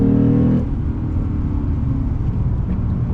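A 2021 Lexus RC F with a V8 drives along with a steady, loud engine drone and road rumble. The tone shifts slightly early on, then holds an even cruising note throughout.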